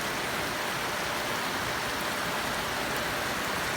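Heavy, windless rain drums on a tin roof in Dinajpur, a close, steady and even hiss of dense drops with no pauses and no talking.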